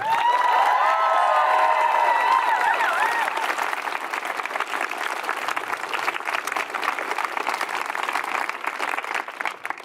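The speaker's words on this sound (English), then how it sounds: "Please, please clap to those people." Applause from an outdoor protest crowd against sexual misconduct by university professors: steady, dense clapping fills the whole span with some cheering and voices mixed in at the start, and it continues evenly throughout.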